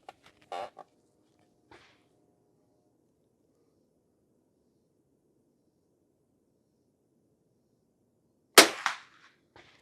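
Henry H001 lever action rifle firing bulk ammo outdoors: a sharp crack followed by a brief echoing tail, preceded by faint mechanical clicks and quiet stretches.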